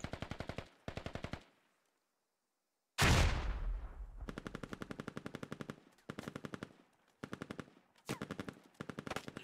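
Gunfire in the tactical shooter game Squad: repeated automatic bursts in short rhythmic strings, separated by silent gaps, with one heavy booming shot that rings out and fades before more bursts follow; no talking.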